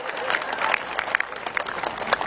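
Audience clapping at a Hindi poetry recital for Chandrashekhar Azad's birth anniversary, an uneven patter of hands with scattered louder claps over a crowd murmur.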